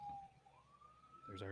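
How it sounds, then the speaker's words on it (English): An ambulance siren passes outside, a faint, distant wail rising in pitch for a moment before a voice cuts in at the end. "there's our weekly siren"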